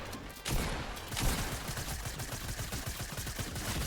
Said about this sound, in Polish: Pompa mnie strzela.